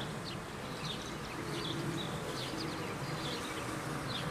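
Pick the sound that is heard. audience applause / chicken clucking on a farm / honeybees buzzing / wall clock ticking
honeybees buzzing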